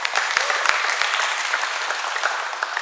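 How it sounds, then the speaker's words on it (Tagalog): Audience at a Filipino rap battle breaks into sustained, dense applause, a steady wash of many hands clapping close and loud for the full stretch with no talk over it. "kaya masigabo na palakpak."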